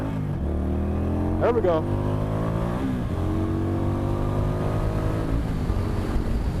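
A 2018 Indian Scout Bobber motorcycle engine roars steadily at close range while being ridden, its pitch climbing and dropping with throttle changes, with a short spoken remark over it.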